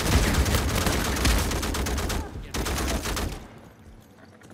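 Gunfire rattles in Uncharted 4 multiplayer, loud, rapid bursts of automatic shots that hammer on, break off briefly, resume, and then drop away to quieter game ambience near the end, with voices under the shooting.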